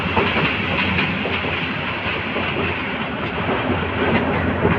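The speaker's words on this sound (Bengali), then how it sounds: "এই মুহূর্তে ট্রেনটি প্রবেশ করছে ইসলামপুর স্টেশনে" The Teesta Express train pulls into Islampur station with a loud, close, continuous rumble and rolling wagon noise plus faint clickety-clack, and no voices.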